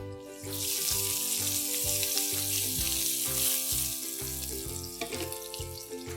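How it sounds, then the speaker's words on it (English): Bitter gourd frying in hot oil in a pan, a steady bright sizzle running throughout with faint tonal music underneath. "The oil is nice and hot, and now let's cook the bitter gourd."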